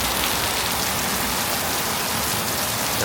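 Steady heavy rain pours down during a gale on the Malaysian coastline, a dense, unbroken hiss of drops hitting surfaces, close and loud throughout.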